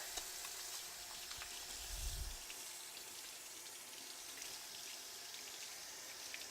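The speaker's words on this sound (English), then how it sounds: "Wash my hands, just in case." A kitchen tap runs while hands are washed, a faint steady hiss of water with a soft low splash partway through, no talking.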